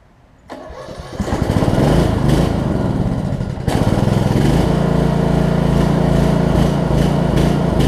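A Briggs & Stratton Intek engine on a Snapper RER riding mower cranks with a rapid starter chatter, catches and rises to a loud, steady run, then steps up to a higher, rougher throttle, close by and alone.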